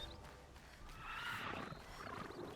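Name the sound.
mechanical horse neighing in video game Horizon Zero Dawn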